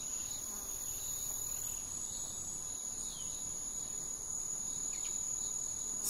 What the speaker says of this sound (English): And you hear hummingbird, flies, birds, bugs.